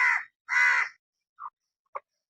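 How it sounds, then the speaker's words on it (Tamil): A crow caws at baby chicks, giving two loud, harsh caws close by, followed by two short, clipped calls in otherwise quiet surroundings. "காக்கா பாருங்க கோழி குஞ்சு பார்த்துட்டு கத்திக்கிட்டே இருக்கு."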